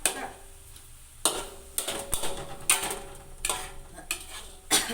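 A spatula scrapes and clatters against a pan as spicy meatballs are stir-fried dry, with irregular bursts of metallic stirring and scraping at close range, no speech.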